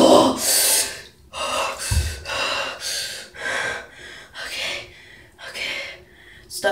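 A person plunged into ice-cold water breathes heavily in a string of sharp gasps and snorted breaths, close and loud, with bits of strained voice between them.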